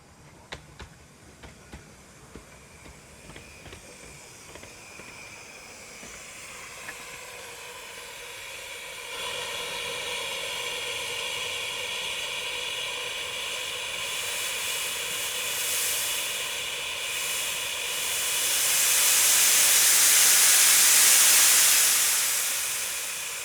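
Steady hissing of a small steam locomotive on a turntable on the Romney, Hythe and Dymchurch Railway at Hythe rises over several seconds, swelling loudest near the end, with faint clicks and ticks early on.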